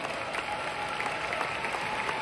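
An audience at a Riway International seminar breaks into a round of applause, a brisk dense patter of clapping that stays steady and fairly close through the brief moment.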